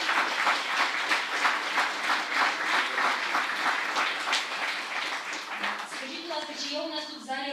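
Audience applause at an international rehabilitation forum in Lviv, welcoming the first patient fitted with a bionic arm; steady, dense clapping from a hall crowd that continues throughout and thins toward the end as a voice starts talking.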